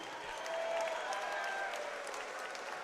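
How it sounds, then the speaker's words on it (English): Distant, fairly quiet applause and crowd noise fill an amateur mixed martial arts event hall after a bout, a steady wash of clapping with faint tonal hum running through it. "Ladies and gentlemen, a round of applause, please, for both of the fighters in the center of the cage."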